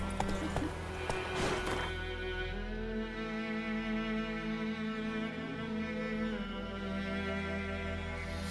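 A horse in The Witcher 3 gallops with rhythmic clip-clop hoofbeats. A whinny-like tonal sound sits over a steady game music bed at moderate level.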